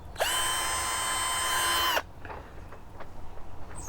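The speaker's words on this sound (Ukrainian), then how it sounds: "Шуруповерт спеціальний інструмент для того, щоб закручувати шурупи." A cordless screwdriver whirs at a steady high pitch for about two seconds, spinning up and winding down cleanly, then stops, leaving faint rustling and light handling noises.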